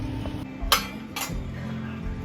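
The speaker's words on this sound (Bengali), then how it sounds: "যত বাটি কৌটা সব নিয়ে খেলতে যাবে বলে রেডি করছে" A child plays with bowls and containers, making two bright clinks against a low background rumble.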